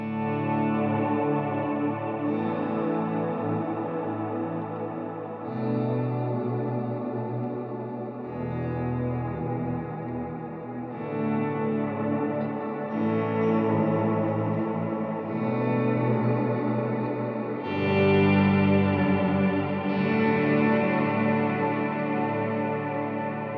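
An electric guitar is strummed lightly through a second-stage overdrive or boost into reverb, giving ambient, washy chords that change every few seconds. The sustained, smeared tone plays continuously with no talking.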